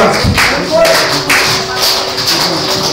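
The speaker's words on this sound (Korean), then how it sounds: "찬송할 때는 박수가 나와." A church congregation at an Easter service for older members claps along during a hymn, steady rhythmic hand claps mixed with singing voices and organ or keyboard accompaniment filling the hall.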